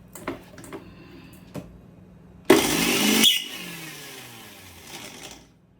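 A kitchen mixer grinder crushing drumstick leaf chutney kicks in with a loud rough whirring burst for under a second, then a softer grinding rattle that fades out, after a few light clicks.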